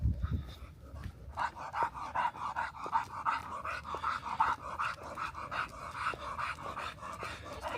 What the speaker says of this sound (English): Callie panting.